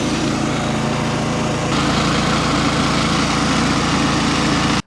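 A Wheel Horse 520 LXI lawn and garden tractor with a 22 hp liquid-cooled Kawasaki engine runs close up in a loud, steady drone that stops abruptly at the end.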